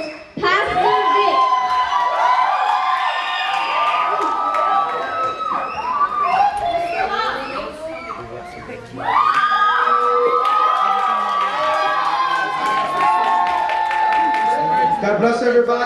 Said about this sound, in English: get out of your seats, get crazy, get loud, and scream for the Youth on Fire Talk Show host, Pastor Vic.